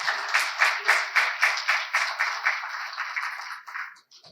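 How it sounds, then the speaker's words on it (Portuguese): Applause for honorees at an academic induction ceremony, a burst of hand clapping with rhythmic swells that gradually fades out and stops near the end. "Uma salva de palmas aos agraciados."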